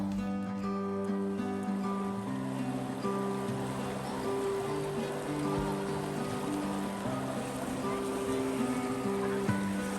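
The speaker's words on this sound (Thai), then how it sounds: "ลำธารที่เนี่ยสวยมากๆเลยครับเพื่อนๆ" A stream rushes past a riverside campsite in Nakhon Nayok where three waterways meet, making a steady, close wash of flowing water that stays even throughout, with faint tonal sounds above it.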